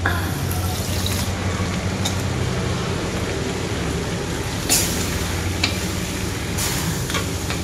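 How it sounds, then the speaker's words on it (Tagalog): A little water is poured into a hot cooking pan, giving a steady, loud hissing sizzle and bubbling throughout, with a few brief sharper splashes. "Konti pang tubig, lagyan natin."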